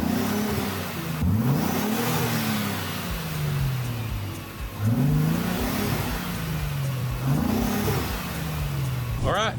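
Ford F150 pickup engine fitted with an aFePower Magnum Force Stage 2 cold air intake, idling and then revving up three times with rising and falling pitch, fairly close and loud.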